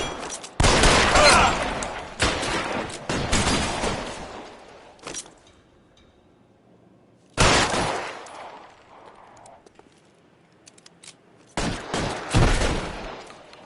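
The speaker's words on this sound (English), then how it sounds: "Find some cover! Covering fire!" Gunfire shootout in L.A. Noire, a 1940s Los Angeles crime game: loud close bursts of rapid shots and volleys, with quiet gaps between them.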